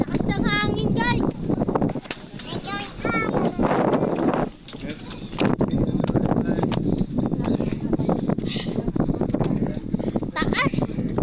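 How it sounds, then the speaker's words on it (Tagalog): Strong wind at the Chocolate Hills buffets the microphone in heavy rumbling gusts while people talk loudly over it. "Lakas ng hangin guys."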